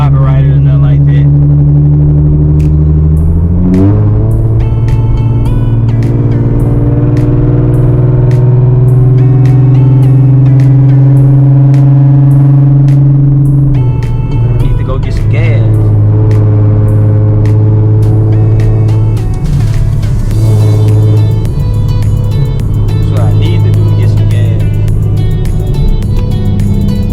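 Nissan 370Z fitted with a Tomei exhaust cruising on the interstate, a steady loud droning exhaust tone inside the cabin with pitch shifts as it changes gear and accelerates, continuous throughout with faint road noise.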